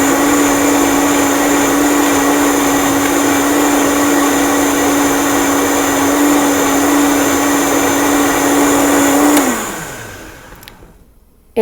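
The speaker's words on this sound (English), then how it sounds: "So I'm going to take a minute and blend this." Vitamix blender running at full speed on lemon ginger tea, a loud, steady whirring roar with a high whine that holds for several seconds, then winds down and cuts off.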